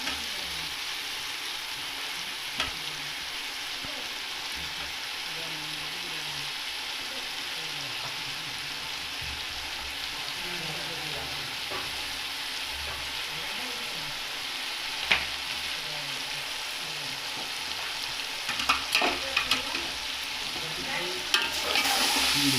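Vegetables and tomatoes for pulao fry in hot oil, with a steady dense sizzle throughout and occasional sharp clicks of a spoon stirring the pan, close and continuous without talk.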